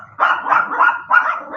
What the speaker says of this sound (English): Evidently, there's something outside that needs barking at.